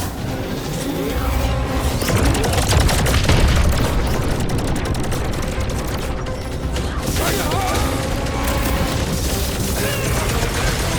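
In a Guardians of the Galaxy battle on PS5, cannon blasts boom through dense, loud combat noise with crashes and mechanical clatter. The mix stays constant and voices from the game are heard throughout.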